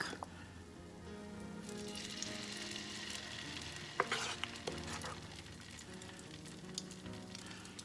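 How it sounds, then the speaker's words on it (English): Crabby corn cakes fry in grapeseed oil, a steady close sizzle and crackle with occasional louder pops and a brief clink of a utensil partway through. "the Crabby Corn Cakes are going in"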